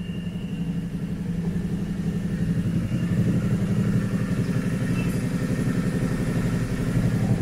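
Indian motorcycle running with its Valvetronic exhaust valves open, a loud, close, steady throbbing engine rumble that swells slightly as the throttle is held, with no talking over it.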